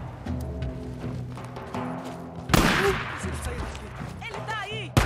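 Gunfire in the zombie-survival video game Days Gone, a sharp burst at mid-clip followed by scattered shots and game ambience, with someone talking excitedly in the background throughout.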